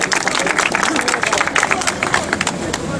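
Audience applause at an indoor association event in Sultangazi as a district chairman is invited to the podium, steady dense clapping from a crowd throughout, with faint voices mixed in.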